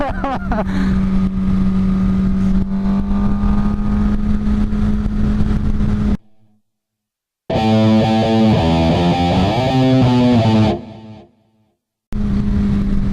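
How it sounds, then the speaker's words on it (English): A motorcycle engine held at a steady high rev against the rev limiter, a loud droning buzz, then after a brief cut a second burst of revving with rising and falling pitch before cutting out again. "hit the rev limiter there."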